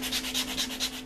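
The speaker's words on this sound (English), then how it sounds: "I'm just using a sanding sponge, as you can see here." A sanding sponge rubs a plastic model kit part of an M41 Walker Bulldog tank at close range, making quick repeated scratchy strokes in an even back-and-forth rhythm, about four passes with no talking.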